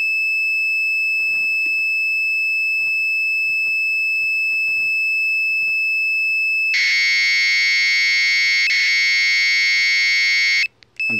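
Commodore 64 loading an emulated digital tape through a microcontroller: a steady high pilot tone, then a loud, dense burst of buzzing data-loading tones that cuts off near the end.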